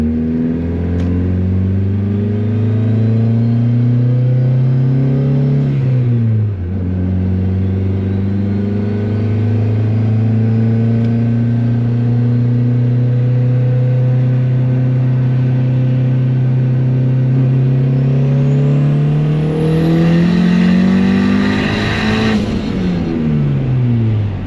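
Turbocharged Honda Civic running over 25 psi of boost, its engine loud and close as it revs hard through the gears, with a brief dip near six seconds and another shift near twenty seconds, no talking.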